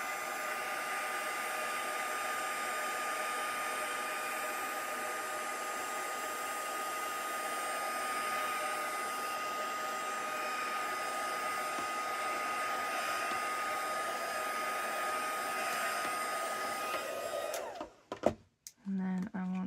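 A hair dryer blows steadily and loudly on a mixed media craft background for about seventeen seconds, then cuts off, leaving a few handling clicks and a brief low hum.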